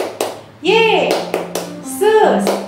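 Children clap along in the 'Tepuk Yesus' hand-clapping game at a Sunday school, with sharp claps in quick bursts mixed with chanted voices.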